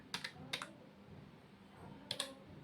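Fingers typing on a computer keyboard: two short bursts of quick clicking keystrokes near the start and another pair near the end, close and fairly quiet over a low room hum, with no talk.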